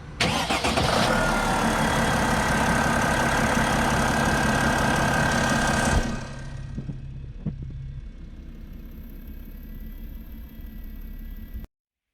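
A boat engine cranks and catches after a new alternator install, roaring loudly at close range for several seconds before dropping to a steadier, quieter idle with a few clunks, then cutting off.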